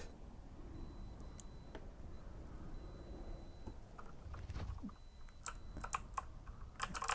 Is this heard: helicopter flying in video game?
no